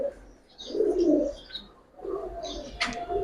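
A Giribaz pigeon gives soft, low cooing calls at close range, two gentle rolling phrases with faint chirps and light rustling between them against a quiet background.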